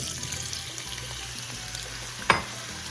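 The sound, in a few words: onions and garlic sautéing in canola oil in a pan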